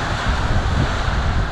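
Sea surf on the shore at Anapa makes a loud, steady broadband wash, heavily mixed with wind buffeting the microphone, over a short stretch.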